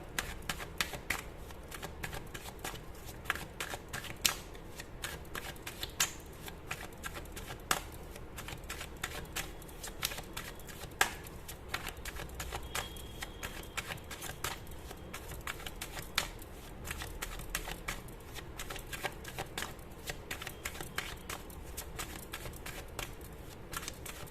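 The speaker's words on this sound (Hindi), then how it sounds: "काफी टाइम लग गया शफल होने में" Tarot cards are shuffled steadily for a long stretch, a dense run of crisp riffling clicks and flutters close to the mic, with no voices.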